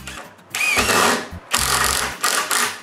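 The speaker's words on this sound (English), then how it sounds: "I begin by pre-drilling pallet holes" A power drill pre-drilling holes in wood for a window frame whirs in three short bursts, each winding up and grinding briefly as it bites, close by with short gaps between.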